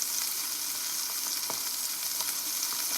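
Steady, dense sizzle of steak frying in a hot cast-iron pan, loud and continuous throughout with faint pops and spatters, no voices.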